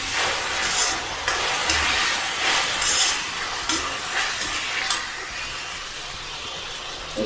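Steady hiss of hakka noodles stir-frying with soy sauce in a hot pan, with repeated scraping and tossing strokes over the first five seconds, then a quieter sizzle.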